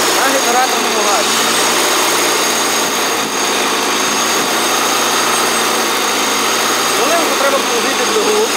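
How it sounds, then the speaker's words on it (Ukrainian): Wood gas tractor engine running steadily on generator gas, a loud, continuous close-up drone with a faint tonal whine rising and falling over it. "Таким чином заводиться двигун на генераторному газі."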